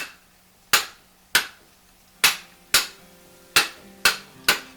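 A rear suspension part from a 1973 Corvette convertible is slammed onto the ground seven times, each a sharp, loud metallic bang with a short ringing decay, spaced irregularly about half a second to a second apart.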